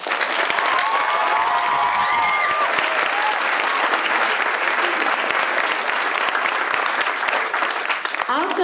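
At an elementary school Happy Trails ceremony, an audience gives a student a loud, sustained round of applause that stays dense and even for over eight seconds. Faint voices sound early on.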